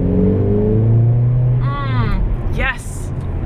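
A Mercedes-AMG A45 with its exhaust valves open revs, rising to a loud rasping engine note and then falling back to a rumbling idle, with a second brief rev near the end and someone speaking over the sound.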